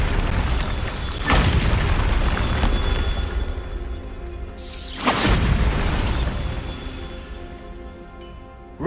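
Two heavy booms from the Bombarda spell in the video game Hogwarts Legacy, each a loud blast that rumbles and decays over a few seconds, set against a dense, continuous game soundscape.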